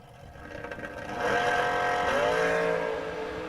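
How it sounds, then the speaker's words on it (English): Dragsters at a memorial drag race rev up, the engine note swelling to a loud sustained whine with a pitch that climbs and shifts, then eases slightly as they pull away. "Double entry dragsters for round 3"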